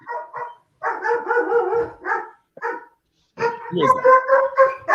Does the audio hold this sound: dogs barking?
yes